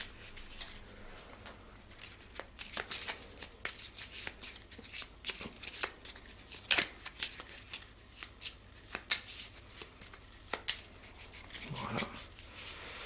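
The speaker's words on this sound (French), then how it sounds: "Donc je mélange l'ensemble de ces cartes." Cards for the board game Mission France Libre are shuffled by hand, giving repeated crisp riffling and slapping bursts that are close but fairly quiet, with a soft thump near the end.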